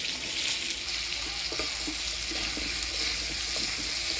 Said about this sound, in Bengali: আলুটা ফোড়নের তেলে ভালো করে নাড়াচাড়া করে নিলাম